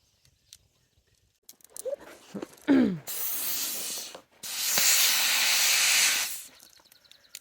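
Compressed air hisses loudly through a hose while a FedEx truck's transmission is being swapped, preceded by a few clanks and squeaks, then two long, steady bursts of rushing air separated by a short pause.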